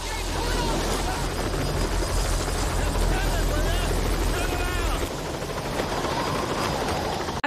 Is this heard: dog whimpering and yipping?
no